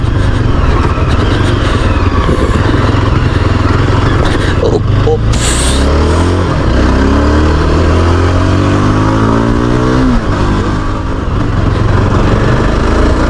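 A Yezdi Adventure motorcycle engine labors steadily under load, struggling with torque in too high a gear, a loud continuous rumble with shifting pitch and a brief scraping rattle partway through.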